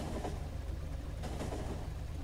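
A train pulls into a station in the factory-building game Factorio, a dense, steady low rumble of rolling rail wagons and machinery hum that fills the whole moment without talk.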